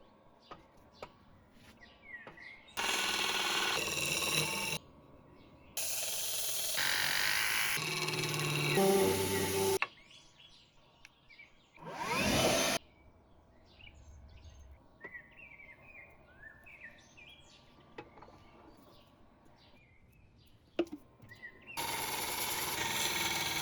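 Glued wooden rings being turned on a lathe for a vase give off loud bursts of hissing cutting noise, separated by quieter gaps where birds chirp in the background.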